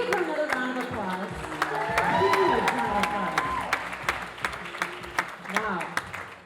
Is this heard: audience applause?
yes